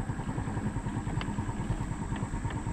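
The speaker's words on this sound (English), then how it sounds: "I think it's idling a little low." A motorcycle engine idles low and steady up close, its uneven low putter pulsing continuously with a faint mechanical clatter on top and no talk.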